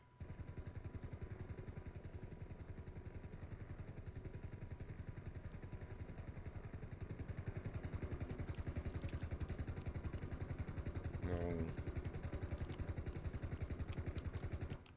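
A helicopter in the FiveM game descends onto a helipad, its rotor beating as a steady rapid pulse with engine drone that grows slightly louder toward the end, with no talk over it.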